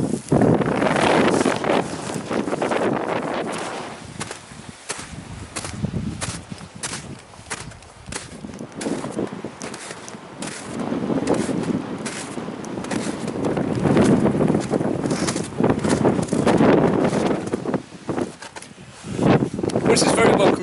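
Wind gusts around a shelter on a snowy mountain pass, roaring and buffeting the microphone in uneven surges while someone talks over it and footsteps shuffle.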